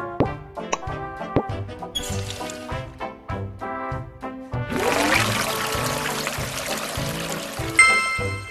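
Cartoon water rushes through pipes in a Max and Ruby preschool science game, a bright swelling gush that starts midway over a plucky, rhythmic musical backing and keeps flowing to the end, with no talking.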